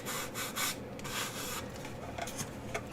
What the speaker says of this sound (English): I'm going to sand these.